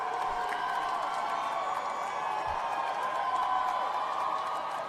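Crowd cheering at an MIT graduation speech, a steady dense roar of many voices sustained throughout without a break.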